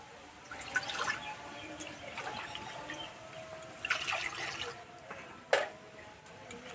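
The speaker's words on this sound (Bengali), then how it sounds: "কড়াই দেবো জল" Water is poured into a wok on a lit stove in a few short splashing bursts, quiet and close over a low background.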